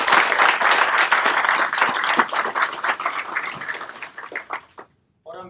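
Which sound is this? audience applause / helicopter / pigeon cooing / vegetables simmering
audience applause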